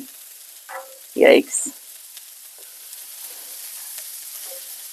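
Bacon rubbed in butter sizzles on a Blackstone griddle, a faint, steady frying hiss running throughout, briefly interrupted by a short spoken exclamation.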